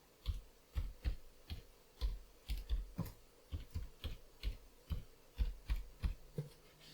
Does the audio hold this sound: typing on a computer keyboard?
yes